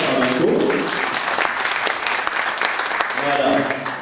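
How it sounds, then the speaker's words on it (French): A crowd applauds steadily, dense clapping filling the room, with a voice speaking briefly over it at the start and end. "Je vais vous demander de l'applaudir."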